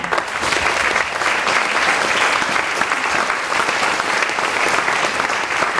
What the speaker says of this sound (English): So I think they should have a round of applause as well.